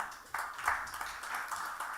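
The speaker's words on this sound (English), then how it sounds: "he deserves a round of applause." An audience at a conference on emerging technologies and Indo-Pacific relations applauds a guest arriving on stage, a soft, steady patter of clapping from a modest crowd heard at some distance.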